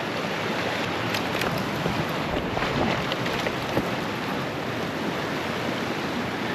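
Bridalveil Creek in Yosemite, crossed on foot while backpacking, sounds as a steady, close rush of flowing water mixed with wind buffeting the microphone, with no talking.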